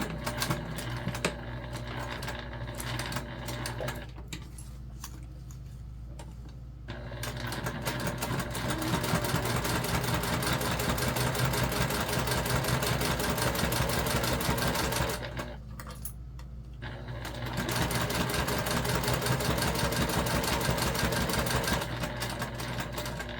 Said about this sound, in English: actually we're gonna baste our panel pieces down first together.